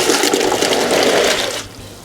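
Clay soil is tipped into water to soak for homemade clay, giving a close splashing, gurgling pour that fades away near the end.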